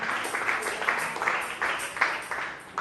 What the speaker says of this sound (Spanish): Denle una ofrenda de palmas a Cristo Jesús, el Señor.